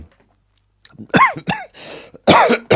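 A few harsh, close coughs from someone who has been ill, in quick succession after a quiet start, with a throat-clearing rasp between them.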